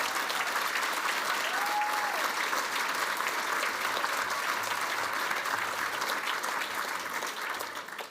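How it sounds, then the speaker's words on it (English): An audience at the Sambell Oration on belonging in Australia claps steadily, a dense, even wash of applause that holds for the whole stretch and only starts to thin toward the end. "Please give them a round of applause."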